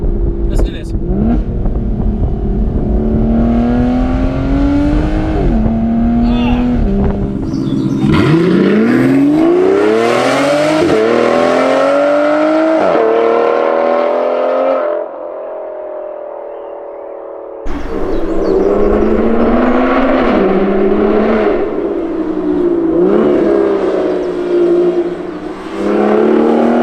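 An Aston Martin Vanquish S Volante convertible's engine is blipped repeatedly, each tap of the throttle rising into a loud rev that falls back, then surging up again as it accelerates, with someone talking over the noise.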